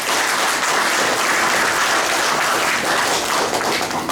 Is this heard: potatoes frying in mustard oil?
no